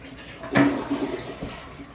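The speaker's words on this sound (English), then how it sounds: "Flush the toilet." A household toilet that flushes liquids but not solids is flushed, with a sudden close rush of water that keeps swirling and draining.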